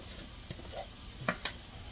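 Garlic goes into a pan of clam sauce and is stirred, giving a faint sizzle with a few brief utensil scrapes and clinks.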